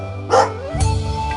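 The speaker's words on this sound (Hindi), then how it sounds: "किंतु फिर जरा सी खटपट हुई कि वही भौंकना।" A dog barks once loudly and close, a sharp yelp-like burst followed by a lower, rougher growling bark trailing on, with no voices present.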